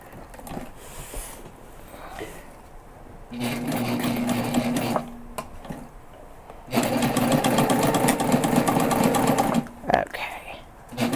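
A sewing machine stitches a backpack in two long bursts of steady, close mechanical whirring, with short pauses and handling noise between them and a voice talking briefly.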